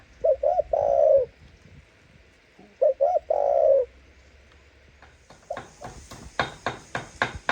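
A dove coos nearby in two clear, rhythmic phrases with a pause between. Sharp knocking taps follow in quick succession.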